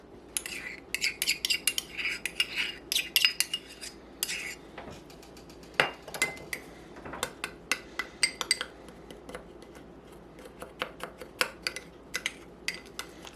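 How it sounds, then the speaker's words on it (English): A utensil stirs ketchup and dry mustard for a meatloaf topping in a small dish, giving quick repeated scraping clinks against the container, close and fairly loud, in uneven bursts with no talking. "So we'll mix this up and set it aside."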